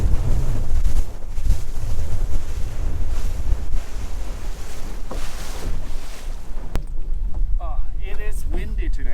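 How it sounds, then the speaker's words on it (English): Strong wind at sea buffets the microphone aboard a lobster boat off the coast of Norway, a loud roaring rush with waves and water behind it, and someone speaks near the end. "It is windy today"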